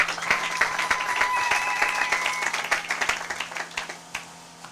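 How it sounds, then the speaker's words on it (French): A church congregation claps and applauds in a dense, steady wash of hand claps that thins into scattered claps toward the end, with a held tone and faint voices underneath. "Acclamez pour la gloire d'Éternel notre Dieu"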